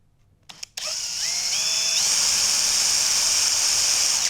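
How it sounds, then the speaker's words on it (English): A drill bores a notch into a wooden crescent pen holder, starting after a couple of short clicks and then running as a steady, loud, close whine whose pitch climbs in a few steps as the bit cuts. "Let's get that a little bit bigger so that the drill bit doesn't drift."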